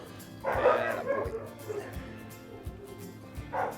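A pet dog lets out a burst of whimpering yips, then softer whines, with a short whimper returning near the end, heard up close indoors with quiet handling noise between.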